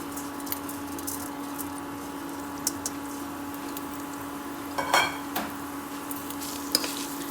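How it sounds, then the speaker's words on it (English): Washed and strained rice sauteed gently in a pan for shrimp khichadi: a quiet, even sizzle with sparse soft spoon scrapes and a brief clatter of utensil against pan partway through, with no voices. "I'm just going to saute it for a few minutes."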